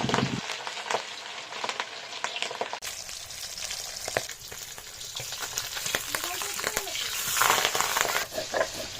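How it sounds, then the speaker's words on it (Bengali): Pabda fish frying in hot oil, a sustained crackling sizzle with spattering pops and utensil clicks, growing louder toward the end. "এই মাছটা ভাজার সময় নিজেকে প্রোটেক্ট করে নিতে হবে"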